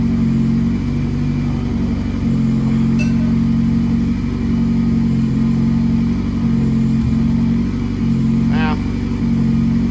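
A Nissan Juke engine on a stock ECU with flex fuel idles loud and close, a droning hum with slow, gentle rises in revs, while the car runs rough.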